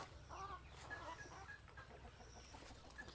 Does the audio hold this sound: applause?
no